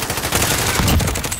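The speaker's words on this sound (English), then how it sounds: "Shot him from like three stories down through the crack." Rapid automatic gunfire in Warzone, a fast, dense burst of loud, close shots that runs through the whole brief moment.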